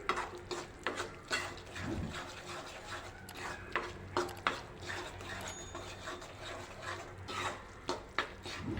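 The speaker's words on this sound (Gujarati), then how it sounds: "બરાબર હલાવી લઈશું બે મિનિટ માટે તેને હલાવી લઈશું" Sukhdi mixture stirred in a pan off the flame, with a steady series of close scraping and rubbing strokes of the spatula against the metal, some louder knocks, and a low background rumble; no voices.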